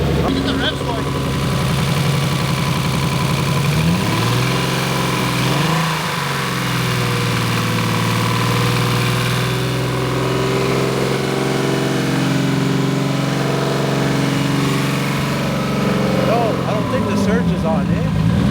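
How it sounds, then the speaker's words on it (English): Big-turbo Nissan G35 engine running and revving, a steady loud droning note with swelling rev sweeps near the start and end, close by with people talking intermittently under it. "Look at the revs going."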